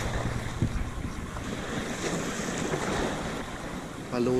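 Strong sea waves crashing and surging during a fishing trip, a continuous loud wash of surf mixed with heavy wind buffeting the microphone, no speech heard.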